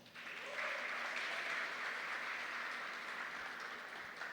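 Audience applause at a seminar on gender diversity in basic education, a sustained even roar of clapping from a crowd that swells in and then slowly tapers.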